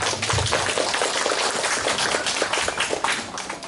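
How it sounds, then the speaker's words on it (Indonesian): An audience at a Sunday morning Islamic religious gathering breaks into dense, loud applause, with steady rapid clapping from many people sustained throughout. "maka tepuk tangan untuk kita semua"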